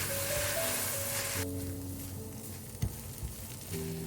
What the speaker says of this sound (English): Keep stir frying to cook out the sauce and bring out the aroma.